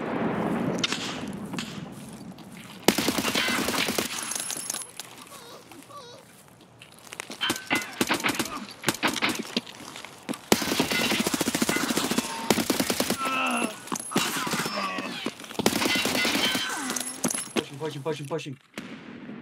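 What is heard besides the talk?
gunfire in the video game Escape From Tarkov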